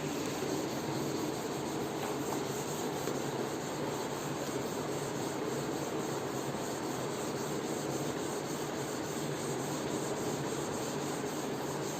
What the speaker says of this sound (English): Now I am rubbing the board.